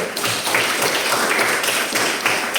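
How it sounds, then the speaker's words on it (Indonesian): A classroom of students claps for a classmate, a brisk patter of many hands that holds steady for a couple of seconds with no talking. "Tepuk tangan buat Desi"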